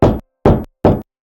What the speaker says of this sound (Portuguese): De repente, alguém bateu na porta.